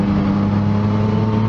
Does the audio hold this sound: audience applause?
no